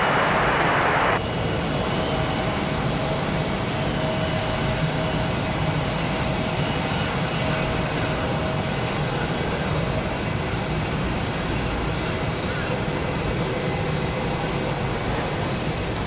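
An Endeavor Air CRJ regional jet arriving from Nashville lands on runway 23 left at Raleigh-Durham on a windy day, a loud, steady broadband engine roar with wind rumble that fills the whole stretch.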